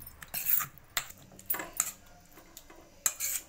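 Metal spoon scraping and clinking against a bowl while chicken pieces are tossed in tikka masala marinade, a few sharp taps and scrapes in bursts with quiet gaps between, close and moderately loud.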